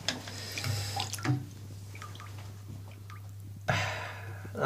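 A metal detector plunged into a bathtub full of water, giving soft sloshing and splashing with a steady low electrical hum beneath, and a louder burst of water disturbance near the end.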